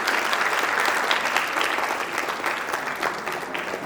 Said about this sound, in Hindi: आप लोग जोरदार तालियों से सर का स्वागत करें